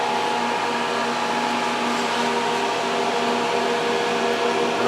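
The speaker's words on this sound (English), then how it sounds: "if you lift up on this arm, the motor will turn in either direction" Steady electric motor whir from a Spectrum Technologies Capris 60 machine, being sold for parts, with its dancer-arm-controlled motor turning; a constant, close hum with even tonal lines and no speech.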